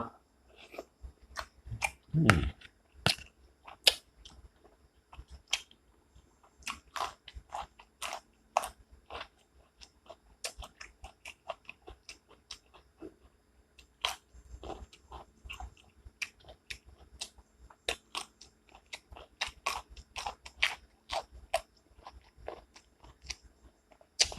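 Close-up crunching and chewing of a spicy Thai-style pounded salad made with giant squid eggs and fermented fish sauce, with rapid irregular bites and crisp crunches throughout, no talking.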